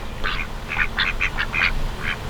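Several loud, nasal quacks from a group of four ducks in quick irregular bursts, close by, with no talking.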